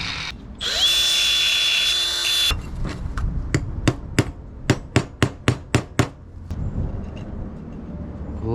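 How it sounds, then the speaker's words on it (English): A hammer pounds a cut metal 15-gallon fuel cell to fit a contour: about ten sharp, close, fairly rapid metallic strikes, preceded by a high whining power-tool burst. "we'll smash it down a little bit with the hammer to kind of fit that contour a little bit better"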